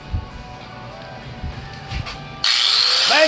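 An angle grinder starts partway through and grinds the head off a soft rivet on a tractor wheel ring, a loud, steady high-pitched whine with a shifting tone. Light tapping and handling noises come before it starts.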